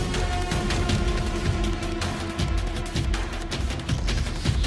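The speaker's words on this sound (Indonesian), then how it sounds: "melawan mereka dengan petasan yang berada di dalam rumput" Firecrackers exploding in grass in a film scene: a dense, continuous crackle of sharp pops layered over a loud rumbling background, with no pause.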